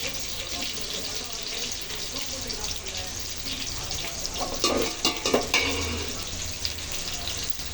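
Small onions fry in a pan with a continuous sizzling hiss, joined midway by a few louder clattering stirs, while a voice talks faintly in the background.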